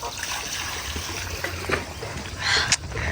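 Water runs from a tap in a village home, a steady trickling and splashing stream at moderate loudness with a brief brighter splash near the end.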